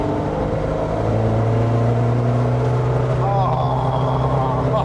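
A Talbot Sunbeam Lotus engine revs hard and steadily from inside the car on a twisty rally-style stage, a loud, continuous drone with rising pitch near the end.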